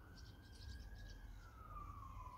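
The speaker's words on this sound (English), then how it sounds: "The sirens are blaring." A siren wails steadily in the background, its tone holding then gliding downward, with faint birdsong over low steady rumble and no talk.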